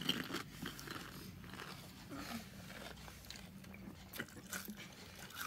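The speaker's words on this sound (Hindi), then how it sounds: "मैं गोलगप्पे खा के फ्री हो चुका हूँ" Crunchy golgappa (pani puri) being eaten up close, with soft irregular bites, crunches and wet chewing at low volume and no talking.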